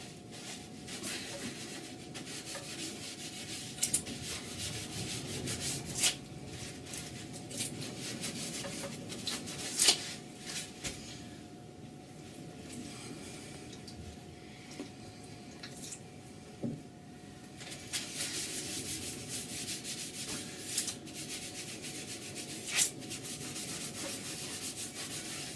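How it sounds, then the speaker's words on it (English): A kitchen towel moistened with citrus oil is rubbed across wood to remove liming wax, giving soft repeated close wiping and rubbing strokes with occasional light taps and creaks. "Just put it onto the kitchen towel. And start to remove the liming wax."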